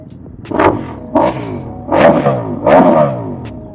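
Ducati Multistrada V4S motorcycle V4 engine revved four times in quick succession, each a loud rising roar that drops back between blips, recorded close with no talk.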